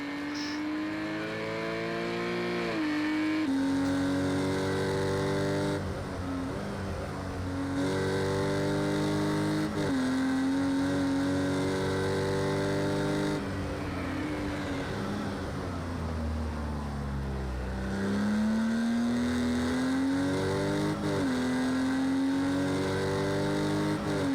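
A Porsche race car lapping a circuit in a racing video game, its engine droning loudly and continuously with repeated rising revs and gear-change dips, plus one deep slowing sweep before accelerating again, no talk.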